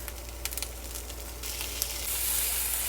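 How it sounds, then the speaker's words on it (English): Onion and jarred garlic sautéing in oil in a stainless steel pan: a soft, even sizzle that swells and brightens toward the end, with a few faint clicks and no talking. "I'm gonna saute the onion down till it browns a little bit"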